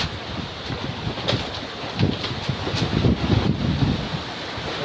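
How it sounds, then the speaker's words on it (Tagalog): Strong wind roars and buffets the microphone in uneven gusts, with a steady, surf-like rush behind it. "Grabe ang hangin, no?"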